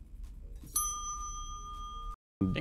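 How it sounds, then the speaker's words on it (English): An elevator in a police station level of a video game gives a bright ding that rings out clearly and sustains for over a second before cutting off abruptly. Other game sounds follow after a short silence. "Ding dong. Yep, that was an elevator."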